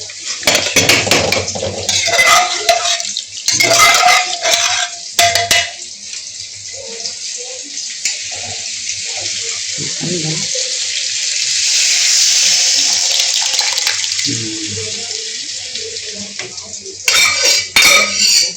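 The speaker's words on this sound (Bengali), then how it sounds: "ডাইল ঢেলে দেবা এখন ডাল দিয়ে দেবো" Lentils are poured into a hot pan of fried spices for Bengali-style dal, producing a sustained watery rush and hiss, framed by utensil clatter and talking before and after.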